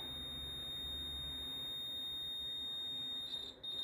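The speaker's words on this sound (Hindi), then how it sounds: "बीप साउंड है, यानी कि ये ट्रांसफार्मर बिल्कुल सही है" A multimeter gives a continuity beep while testing the transformer of an LED driver: a single steady high-pitched tone holds for over three seconds, then cuts off abruptly, alone in a quiet room.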